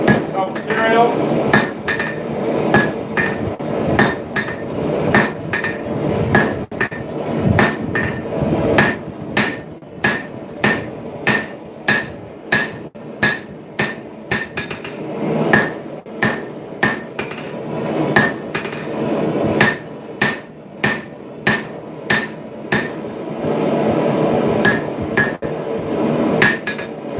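Steel rings under a hammer while a set down is forged on a full tang hunter knife, a long run of sharp, steady blows with short pauses and faint talk between.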